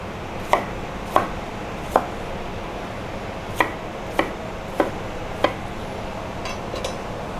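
Knife cutting fruit on a board, a series of about nine sharp, separate chops at irregular spacing over a faint steady background, with no talk.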